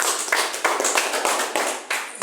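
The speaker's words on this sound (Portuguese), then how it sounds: "Nós precisamos de palmas para Jesus Cristo também." A church congregation claps for Jesus Christ: sharp, close claps in an irregular pattern with short gaps between bursts, fairly loud, with no talking.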